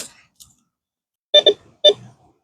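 A handheld metal detector gives a faint click, then three sharp electronic beeps outdoors, the first two close together and the third just after.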